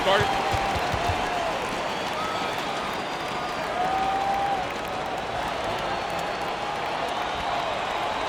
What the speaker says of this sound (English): Big round of applause for your Chicago Lovables.